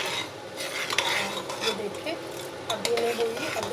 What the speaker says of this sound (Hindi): चम्मच के साथ हला इसको देखते हैं।